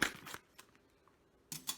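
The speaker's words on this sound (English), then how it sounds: "and then you use the scissors to open it." Scissors snip open a pouch of Ghirardelli double chocolate brownie mix, with a few faint, close crisp cuts separated by a quiet pause.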